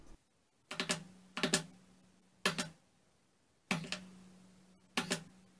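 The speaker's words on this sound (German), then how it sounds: "Der verursacht nämlich so ein leichtes Pling-Geräusch wie bei einer Feder." Power button on an Inter-Tech AM-1 aluminium HTPC case pressed five times at uneven intervals, each close click followed by a short springy metallic ping that rings briefly.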